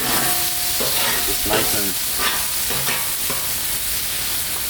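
Butter sizzles on a hot Blackstone griddle with a bright, continuous hiss. A person talks briefly over the sound.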